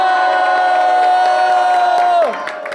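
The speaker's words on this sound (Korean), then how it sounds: "다 같이 5초간 승리의 함성!" Crowd of young supporters at a Korean election rally for Kim Moon-soo lets out a loud, sustained collective victory shout, holding steady for a couple of seconds before breaking off and trailing away.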